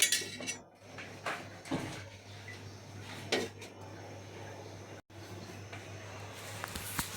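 Metal or ceramic bowls set down inside a pot for steaming bhapa pitha, with several clinks and clatters of dishes against the pot, close and without talk.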